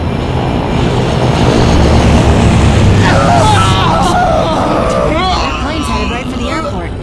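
A C-130 propeller plane drones loudly in Left 4 Dead 2, a heavy continuous engine rumble that fills the scene while game voices and chatter rise over it in the second half.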